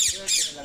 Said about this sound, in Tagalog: Blue Indian ring neck.